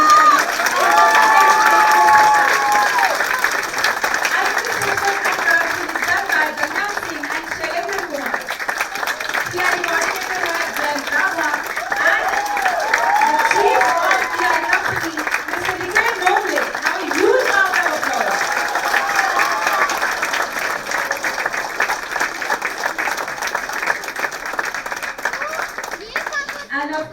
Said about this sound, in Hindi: प्लीज इनके लिए तालियां कम नहीं होनी चाहिए।